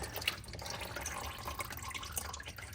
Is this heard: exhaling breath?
no